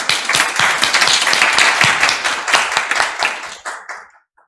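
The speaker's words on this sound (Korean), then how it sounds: "뜨거운 박수로 우리 상무님을 환영해 주십시오" An academic conference audience gives a guest speaker a warm welcome with brisk, dense clapping from many hands, strong at first, then thinning and fading to silence near the end.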